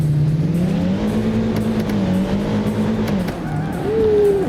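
Car engine in BeamNG revving while driving, a loud continuous motor drone whose pitch rises and falls with throttle, ending in a sharper climbing rev, heard alone without talk.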